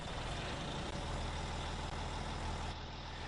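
A heavy truck engine rumbles steadily at close range in the Landwirtschafts-Simulator 19 farming game, a dense low drone that holds throughout without a break.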